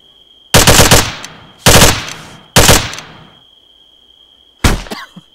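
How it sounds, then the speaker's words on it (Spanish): Gunfire from a crouched shooter in Arma 3: four loud, sharp bursts of shots with decaying tails, three in quick succession and a last one after a pause, over a steady high electronic tone. "estaba disparando agachado"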